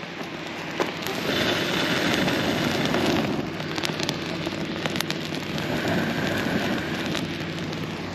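A backpacking campfire of sticks by Lake Pend Oreille catches and burns, giving a dense, steady hiss scattered with sharp crackles and pops throughout, close by and with no talking.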